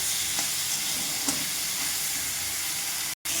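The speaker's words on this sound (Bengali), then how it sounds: "কেটে ভেজে রাখা আলুগুলো দিয়ে দিয়েছি, টমেটো কুচিগুলো দিয়ে দিয়েছি, সব একসাথে দিয়ে কষে নেবো" Fried potato pieces, chopped tomatoes and slit green chillies cook together in a pan, a constant bright sizzle with a couple of soft spatula knocks and a brief dropout at the end, no talk.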